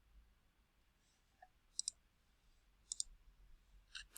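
Sparse, faint computer mouse clicks, some in quick pairs, spaced across a quiet background while dragging, near and crisp with no voices.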